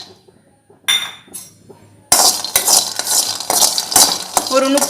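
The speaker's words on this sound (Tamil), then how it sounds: "அதே பேனில் 1/2 கப் வந்து வேர்க்கடலை எடுத்துக்கோங்க." Peanuts stirred in a pan give a dry rattling scrape with clinks of a utensil against the metal, close and fairly loud, starting after a few brief knocks.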